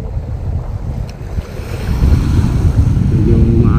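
Choppy sea slaps against a small fishing boat on open water, a loud, constant wash of waves and wind rumbling on the microphone, growing rougher toward the end, with no one speaking.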